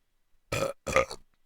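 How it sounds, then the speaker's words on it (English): Two loud, close burps in quick succession, the second longer and more drawn out, with near silence before and after. "Big burps."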